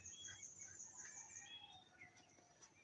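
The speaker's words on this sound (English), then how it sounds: "Birds are chirping." Birds chirp and tweet softly on a calm morning, with several thin, high calls overlapping at a distance against faint insect-like background hum and no voices.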